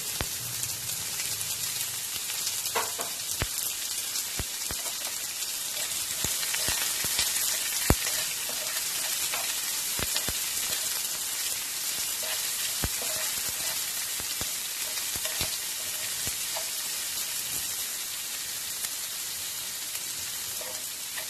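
Chopped onions and curry leaves frying in a pan, a steady dense sizzle with scattered sharp crackles and occasional scraping taps from stirring, close and continuous.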